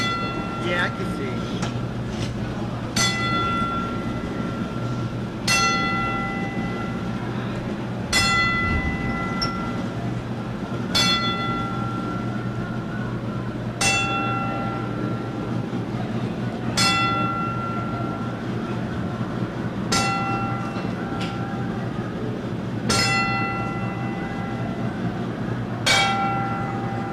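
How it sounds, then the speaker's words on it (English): At a wrestling event, a bell rings ten evenly spaced times, each a bright clear strike that rings out over a steady crowd hum and a low background drone. "join us in honoring their memory with a traditional 10-bell salute"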